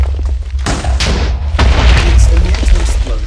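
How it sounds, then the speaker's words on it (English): Explosions blowing up a mountain in Minecraft: a loud deep boom followed by a rolling series of blasts and crumbling thuds, continuous and close for about three seconds. "Let's just blow up the entire mountain."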